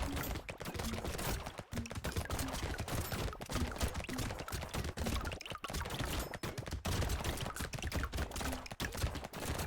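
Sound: turrets firing in the video game Brotato

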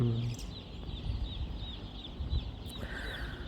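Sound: chickens clucking in a poultry farm

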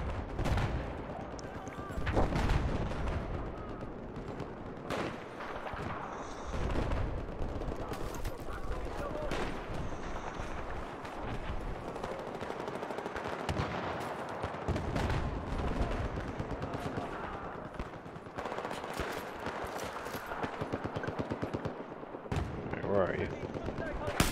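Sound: gunfire in video game Battlefield 4

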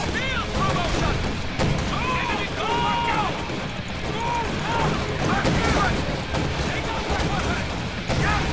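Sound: gunfire and grenades in video game Company of Heroes 2

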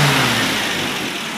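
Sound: MGB car engine revved

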